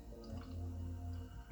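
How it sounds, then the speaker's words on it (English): A sour farmhouse-style beer is poured gently from a can, a soft continuous trickle and fizz close by with no talk over it. "I'll try and pour it as gently as possible."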